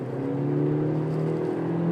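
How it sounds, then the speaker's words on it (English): Engine of a 2017 Honda CR-V droning loudly and steadily as the SUV accelerates after slowing down, a continuous near whir with no talk over it. "that's a lot of engine noise"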